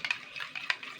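A spoon mixing semolina dough in a bowl, close light scrapes and clinks in quick irregular strokes, moderately quiet with no talking.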